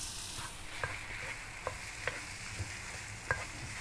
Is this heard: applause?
no